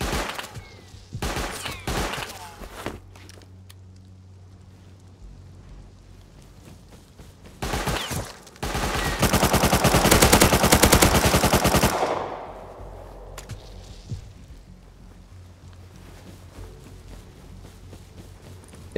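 Gunfire in the survival game Rust: a few scattered shots early, then a dense sustained burst of rapid automatic fire lasting several seconds, loud and close, fading into quieter ambient noise afterward.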